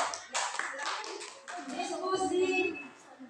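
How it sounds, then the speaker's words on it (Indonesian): A classroom group gives a short round of hand clapping for discussion groups during a teaching session. It comes in uneven bursts mixed with voices. "Tepuk tangan untuk laporan diskusi, hasil diskusi dari masing-masing kelompok."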